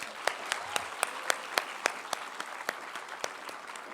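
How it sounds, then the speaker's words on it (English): A crowd of science summer camp participants claps over a steady hiss, with sharp individual claps cutting through at a fairly even rhythm; a room's worth of applause without speech. "So please give yourselves a round of applause."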